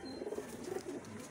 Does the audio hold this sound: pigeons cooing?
yes